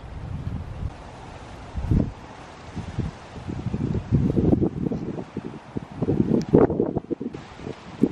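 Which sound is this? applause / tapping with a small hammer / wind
wind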